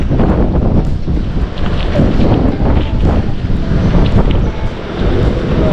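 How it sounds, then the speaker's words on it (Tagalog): Strong typhoon wind buffeting the microphone, a loud continuous roar with gusty rumbling throughout. "Ah, lakas ng hangin."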